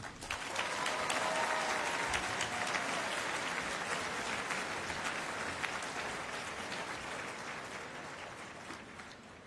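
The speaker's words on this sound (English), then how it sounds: "One more round of applause for that." Applause from an awards ceremony audience at a national civics competition finals swells quickly and holds as a thick wash of clapping, then gradually thins and fades toward the end.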